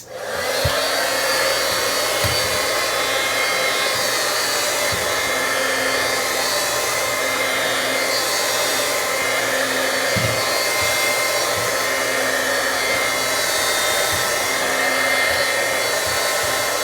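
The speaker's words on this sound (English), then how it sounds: "need to plug the heat gun in" Heat gun runs steadily in a house garage, giving a loud, continuous blowing roar with a faint low hum underneath, and no voices.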